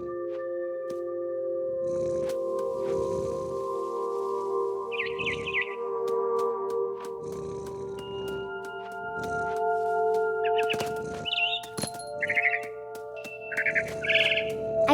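Birds chirp in short bright bursts inside the video game What Remains of Edith Finch, high up in a big tree, sounding over a sustained low musical drone with soft rustling.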